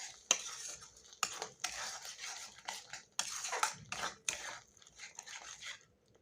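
Masala paste with ground cashew and melon seeds is stirred and fried in oil in a pan for a mushroom dish: repeated close scraping strokes against the pan over a faint sizzle, no voices.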